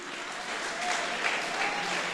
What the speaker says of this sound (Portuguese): Aplauda o aniversariante da noite.